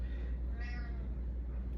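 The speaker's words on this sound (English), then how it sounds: "And you get a meow because you want up?" A single short cat meow sounds near the middle, faint and close against a steady low indoor hum, with no talk, in a home kitchen while a hot toddy is made on a cold day.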